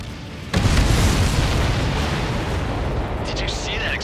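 A missile strikes a supply ship in the Ace Combat 7 flight game, setting off a loud, sudden boom. A long rumbling roar follows and fades slowly, while faint higher game effects flicker near the end.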